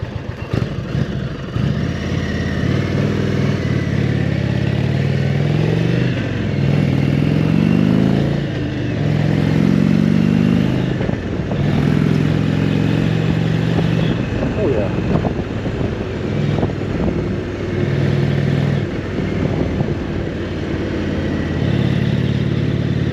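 Indian Roadmaster motorcycle's engine rumbling low and steady as the rider slows and turns around, with gentle rpm swells and wind noise while someone talks over it throughout.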